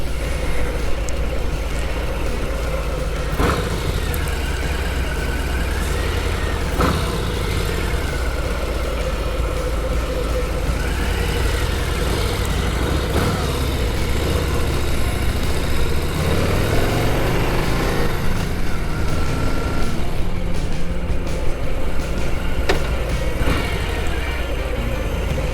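A 2020 Harley-Davidson Softail Heritage Classic motorcycle cruises along with a steady, continuous engine drone and road noise, loud and close throughout with no talking.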